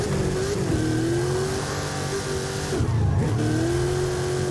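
A Hennessey Velociraptor 6x6 engine revs while drifting in Forza Horizon 5, a loud continuous engine drone whose pitch rises and dips as the throttle changes, with no voices.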